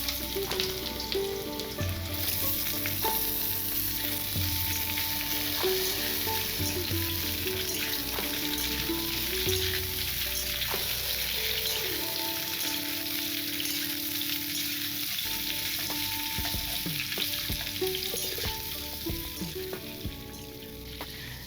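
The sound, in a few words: potato pieces frying in hot mustard oil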